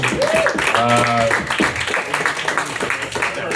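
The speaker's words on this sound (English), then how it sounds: "How about another round of applause for this young lady" Audience clapping for a young woman performer in a small dive bar, a brief burst of applause mixed with chatter and a voice over it, fading quickly.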